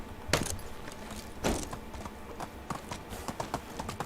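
A donkey's hooves clip-clop along a road in the medieval survival game Medieval Dynasty, with two louder thuds early on and then a run of lighter, uneven steps and a jangle of tack.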